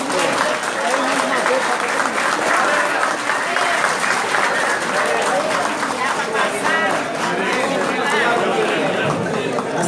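Sustained, loud audience applause fills an outdoor opening ceremony of a seniors' sports games in Guarapari, with crowd chatter and voices mixed in throughout.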